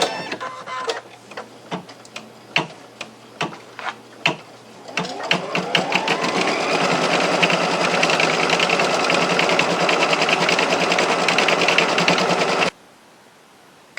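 Computerized sewing machine stitching an appliqué placement stitch for a rhino quilt: a few separate needle thumps at first, then a steady, loud, rapid mechanical whirring run that stops abruptly near the end, with no talking.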